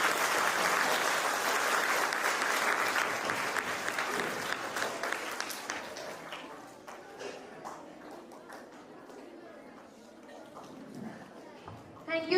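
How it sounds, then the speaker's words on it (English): Audience applause at a storytelling competition grand finale, a sustained wash of clapping that is loud at first, then gradually thins out and fades to scattered claps. "Please clap for everyone who comes here."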